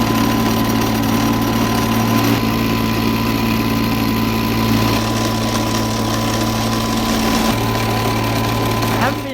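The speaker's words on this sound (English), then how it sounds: "I reckon we're running the engine probably a little bit too hard." A hard-running engine powers gold processing equipment in hot Australian gold fields, a loud, steady close-up drone with constant mechanical vibration for the whole stretch and a brief dip in pitch near the end.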